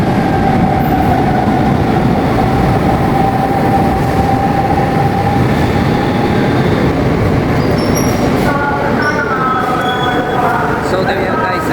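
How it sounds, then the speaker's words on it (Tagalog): An LRT train passes on the far track, a sustained rolling rumble with a thin squealing tone, joined near the end by brighter wheel screeches; a voice speaks over it. "So train coming"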